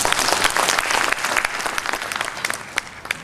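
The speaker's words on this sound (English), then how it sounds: "Another round of applause for him." Applause from an audience at an induction ceremony, dense steady clapping throughout with a few sharper individual claps standing out near the end, fairly close and loud.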